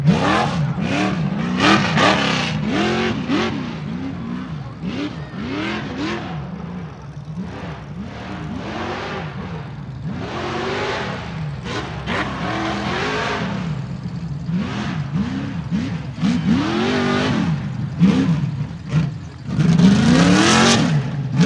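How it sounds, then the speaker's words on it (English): An off-road race truck of the Crandon type at the 2014 Redneck Hybrid Rally in Richland Center, Wisconsin, its engine revving in repeated loud bursts, rising and falling rhythmically over about twenty seconds. "This is the type of truck they run at Crandon and those off-road things"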